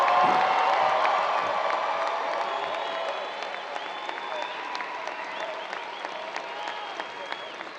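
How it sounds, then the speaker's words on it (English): A large audience applauds the graduating class at a fall 2023 university commencement, with cheering and whoops over loud, dense clapping that slowly tapers off. "let's congratulate with a giant round of applause the graduating class of"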